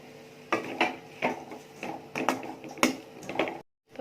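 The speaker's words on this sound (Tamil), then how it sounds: "போட்டு நல்லா மிக்ஸ் பண்ணி விட்டுருவோம்." Banana flower stir-fry with grated coconut is mixed in a pan, a spoon knocking and scraping the metal in about a dozen distinct, evenly spaced taps before a brief silence.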